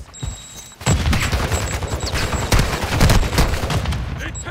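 Rapid gunfire and explosive bursts crack repeatedly in a first-person shooter video game, with a thrown Semtex grenade among the loud, dense volley after a brief quieter lead-in.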